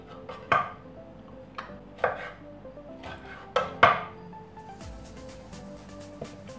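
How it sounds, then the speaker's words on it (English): Knife chopping fresh tomatoes into small slices for a mixed salad, a handful of sharp, irregular cuts against a board with clatter between them, close and fairly quiet. "Let's cut them all small, one, small kind of slices."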